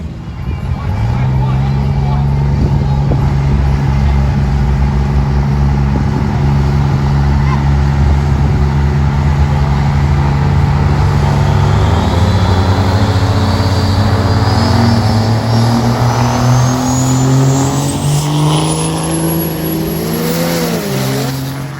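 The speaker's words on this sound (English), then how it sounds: "Robert Berry lays down a pass, 1034, 100" A diesel truck makes a drag racing pass at a diesel drag event, its engine roaring loud and steady throughout with rising revs as it accelerates away, and a voice heard faintly under the noise.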